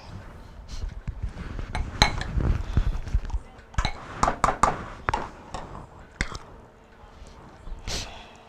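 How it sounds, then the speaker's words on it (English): Shredded cheddar cheese being stirred into a mixture in a kitchen bowl, with irregular clinks and scrapes of a spoon against the dish, close and in uneven bursts with quiet gaps. "And then you stir in 2 cups of shredded cheddar cheese."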